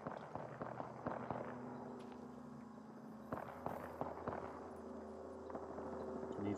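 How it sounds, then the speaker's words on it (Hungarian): Sharp, scattered gunshot cracks ring out in Apex Legends, several close together then sparser, over a steady ambient hum. "Onnan bent a sziklák közül lőnek szerintem. Onnan hallom a lövés."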